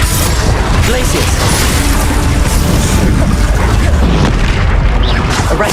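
Bombarda explosion spell cast in Hogwarts Legacy, sounding as a continuous heavy rumbling boom with crashing bursts layered in a loud, dense game mix, while someone speaks over it.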